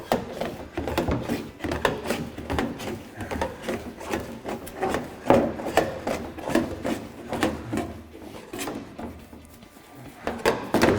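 Stainless steel panel being peeled away from an In The Ditch Pro Series toolbox, giving a steady run of close scraping, rubbing and crackling bursts with no talk.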